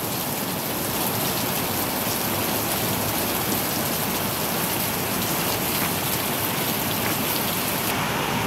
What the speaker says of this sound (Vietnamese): Trời mưa như trút nước, đúng là người ta gọi là trời mưa như trút nước nha.